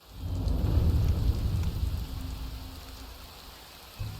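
A rumble of thunder rolls through steady rain in the video game Skyrim, swelling low and loud early, then fading to a soft patter, with a brief thump near the end.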